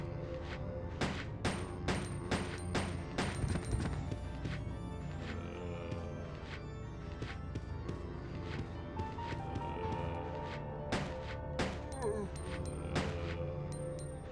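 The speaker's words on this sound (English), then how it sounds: "I use the handgun again." Handgun fire at zombies in Resident Evil Code Veronica X, repeated sharp game gunshots at an irregular pace with short gaps, over low background game ambience and mechanical clatter.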